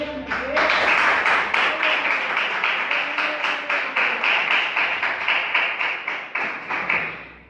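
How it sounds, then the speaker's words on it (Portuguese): Congregation at a church service clapping together in a steady rhythmic beat, loud and close, with voices calling out beneath the even claps before it fades at the end. "Palmas para Jesus, irmãos."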